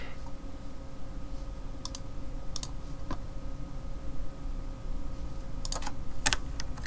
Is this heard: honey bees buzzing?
no